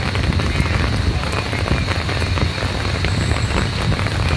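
Heavy rain pours down on a plaza in Pasig City, a dense, loud, continuous hiss and patter of drops striking surfaces all around, with no voices over it.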